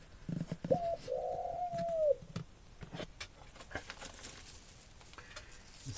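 A male Eurasian collared dove coos from above a nest where the female sits on eggs, one soft hollow call lasting about a second and a half, faint against rustling and light pattering.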